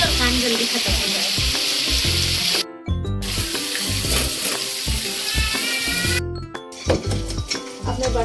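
Dishes are washed in a home kitchen under running tap water, a steady loud rush with clinks and clatter of utensils, broken by two brief pauses where the tap stops.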